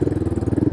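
Brief, loud thumping pulse from a Royal Enfield Hunter 350 motorcycle with a Diablos exhaust pipe, a quick even beat of low exhaust pops heard close.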